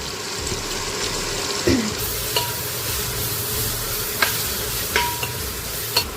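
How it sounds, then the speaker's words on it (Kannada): Ginger garlic paste dropped into hot oil in a pan, sizzling steadily while a spoon stirs and scrapes, with occasional light clinks over the continuous frying hiss. "ಸೊ ನಾನೀಗ ಶುಂಠಿ ಬೆಳ್ಳುಳ್ಳಿ ಪೇಸ್ಟ್ ಹಾಕ್ತಾಯಿದ್ದೀನಿ"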